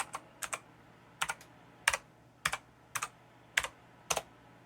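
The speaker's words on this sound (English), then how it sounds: "I'm gonna quick type in my password" A password is typed on a computer keyboard as a series of quick, crisp key clicks in small uneven bursts, close and fairly quiet against low background hum.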